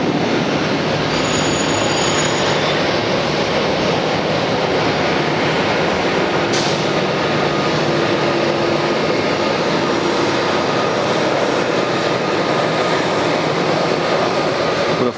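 A Spirit Airlines jet at Atlanta airport heading for Miami, a loud, steady broadband engine roar that persists close-up throughout with no pauses.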